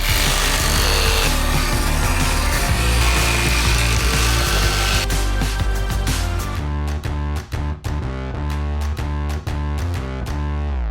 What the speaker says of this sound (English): and then start to cut out the hole for the window.